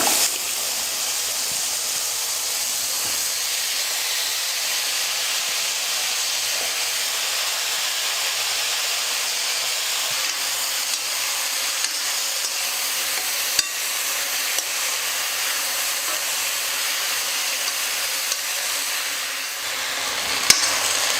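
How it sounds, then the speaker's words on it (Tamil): Chopped eggplant and raw mango sauté in a hot pan with a steady, dense sizzle and hiss lasting throughout, with faint occasional stirring scrapes and no talking. "கத்திரிக்காய் மாங்காய் ஒரு 2 நிமிஷம் நல்லா நான் வதக்கிக்கிட்டேன்."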